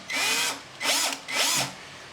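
A power drill whirs in three short bursts while drilling a 10 mm hole in a UPVC door, revving up and down with brief pauses between, close and fairly loud.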